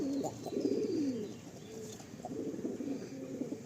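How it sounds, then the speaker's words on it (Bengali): Malwai pigeons cooing in low, rolling phrases, two bursts of soft throaty calls close by, with faint chirps over a steady background hum. "দেখুন পুরো অ্যাক্টিভ রয়েছে পায়রা"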